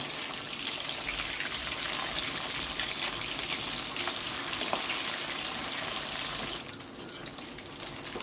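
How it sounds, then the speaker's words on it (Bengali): Katla fish fries in hot mustard oil in a pan, giving a continuous soft hiss and crackle. It is steady and fairly quiet, then eases slightly near the end. "মাছটা ভাজা হয়ে গেছে এবার আমি তুলে নিচ্ছি"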